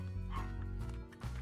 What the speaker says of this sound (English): You're barking, which is why you're staying out there.